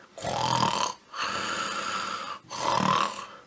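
A voice imitates a bear snoring for a children's story, giving three long, rasping snore breaths with short pauses between them, close and clear.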